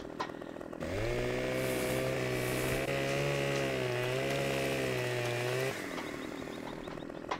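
Chainsaw cutting a log in a farming simulator game, a steady loud engine drone of several seconds that rises in and drops away, with no talk.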